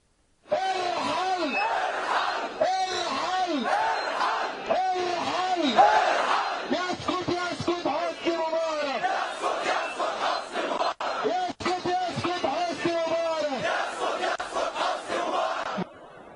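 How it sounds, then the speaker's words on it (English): Protesters in Cairo's Tahrir Square chant slogans against the Mubarak regime in loud, rhythmic unison, a massed chorus of voices repeating phrases in steady waves. "the protesters are also chanting other slogans against the Mubarak regime in Cairo's Tahrir Square"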